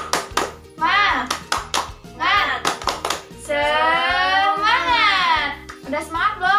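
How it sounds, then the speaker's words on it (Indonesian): Children in an elementary school class perform a rhythmic clapping chant led by their teacher, with sharp unison hand claps in steady bursts between loud sung and shouted call-and-response voices. "Oke, tepuk semangat."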